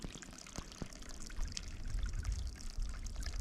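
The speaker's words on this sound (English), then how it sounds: "It's so good to see some flowing water." Water in a stream along the Arizona Trail in the Mazatzal area runs and pours over rocks, a close, continuous gurgling rush that swells slightly toward the end.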